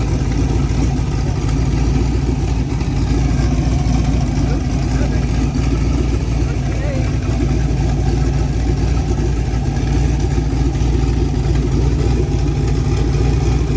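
A turbocharged LS-swapped Mazda RX7 runs steadily at idle up close, a loud, continuous low rumble with a dense mechanical drone that holds evenly throughout.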